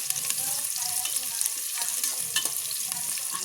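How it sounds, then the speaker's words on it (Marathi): Onion, tomato and potato sautéing in a pan for masala rice, a continuous crackling sizzle with occasional stirring scrapes, close and fairly quiet, with no talking. "कांदा टोमॅटो बटाटा कांदा टाकला याच्यात परतायला छान"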